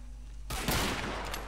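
Burst of gunfire from Hidden & Dangerous 2, a World War II shooter in a co-op assault on a hilltop pillbox in Burma: sudden loud shots kick in after a quiet start and rattle on in a dense, continuous fusillade.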